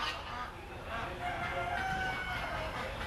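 Rooster crowing at a 4-H county fair, a drawn-out call rising above a steady, noisy crowd and barn murmur, fairly distant and partly buried in the background clamor.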